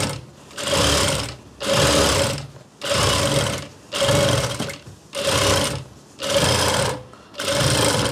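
Sewing machine stitching the folded edge of a kurti, running in seven steady, even bursts of about a second each with brief stops between them, close and loud with no talking.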